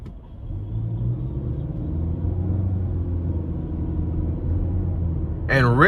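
A 2020 Nissan Altima 2.5 SL accelerates with a rising, droning engine hum and road rumble, building steadily before a voice cuts in at the end.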